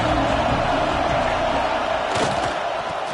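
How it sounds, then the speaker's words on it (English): A loud, roaring college football stadium crowd greets the visiting team, a dense continuous wall of cheering that stays steady throughout, with a few thumps near the end. "This crowd bringing in ear-splitting welcome to their visitors"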